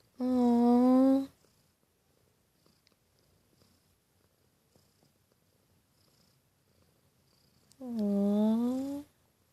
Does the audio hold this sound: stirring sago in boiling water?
no